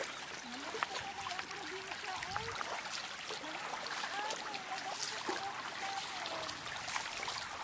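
Clear river stream in the Judean desert near the Dead Sea, close continuous rushing and splashing water with bubbly trickles, while a person talks over it.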